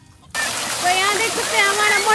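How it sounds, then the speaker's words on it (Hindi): Household water pump motor switched on, water suddenly gushing and splashing loudly after a short silence, a steady rushing flow with gurgles, voices faintly present. "तो यहाँ देख सकते हैं हमारा मोटर चालू हो चुका है।"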